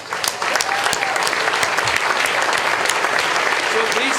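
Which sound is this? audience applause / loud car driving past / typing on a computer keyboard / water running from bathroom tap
audience applause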